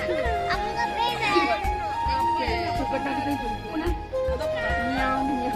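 A voice imitates a cat's meow in drawn-out, sing-song cries, with children's chatter and other voices around it.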